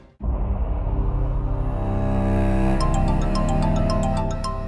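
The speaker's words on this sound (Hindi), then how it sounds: "आ गया फोन" A phone rings in a drama scene, a sustained, loud electronic ringtone with a steady tone that brightens into repeating higher chimes partway through, heard alone without talk.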